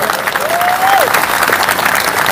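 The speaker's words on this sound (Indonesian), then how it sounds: "Tepuk tangan untuk Madura." Audience applause at a religious talk, steady dense clapping throughout with no break, close and loud.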